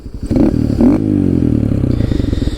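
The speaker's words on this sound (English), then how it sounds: "It's the Yoshimura RS9 high mount exhaust. It's definitely quieter than I thought it was going to be." A Honda Grom with a Yoshimura RS9 high-mount exhaust, baffle installed, idling close by, with a deep, throbbing exhaust note that blips up briefly near the start before settling into a steady lumpy idle.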